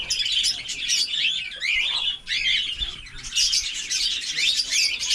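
Dense, continuous chirping and tweeting from several small birds, fairly close and steady throughout with a brief dip midway.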